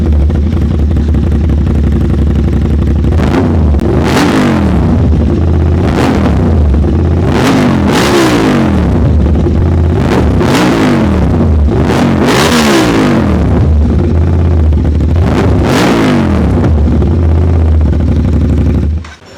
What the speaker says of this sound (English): I did not expect the exhaust is going to be so much loud